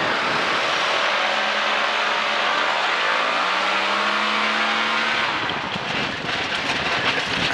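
Engine of a converted airplane powered by a Yamaha Phazer snowmobile engine, droning loudly and rising steadily in pitch as it revs up for takeoff, ending in rough wind buffeting.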